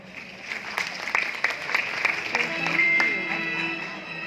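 Applause at a beauty and spa scholarship ceremony as Nail Studio Academy is called up, scattered claps building into a moderate round while a voice continues over it through a loudspeaker.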